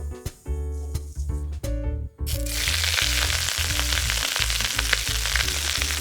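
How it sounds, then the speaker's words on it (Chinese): Chopped green vegetables are dropped into hot oil in a home kitchen and stir-fried, bursting into a loud, steady sizzle after a few clattering, knocking sounds, with the spatula scraping through the crackle and no talking. "油热了以后，我们放入青菜。"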